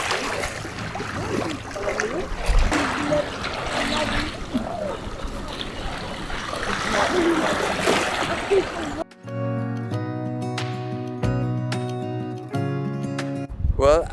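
Splashing and sloshing water from swimming in the sea at Marseille, a continuous watery churn close to the microphone for about nine seconds, then giving way to music.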